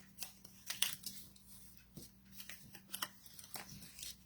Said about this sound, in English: sometimes you'll see a little piece you might have missed when you cut your angle, so just trim that off